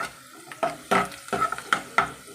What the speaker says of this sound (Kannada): ಇವಾಗ ನಮ್ಮದಿಲ್ಲಿ ಈರುಳ್ಳಿ ನೋಡ್ಬೋದು ಫ್ರೈ ಆಗಿದೆ.